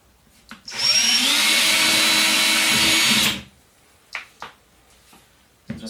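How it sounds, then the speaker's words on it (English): A power drill fitted with an 8mm bit runs for about three seconds in one loud, steady whine, in a DIY job on a plasterboard wall. A few short knocks follow once it stops. "using an 8mm drill bit."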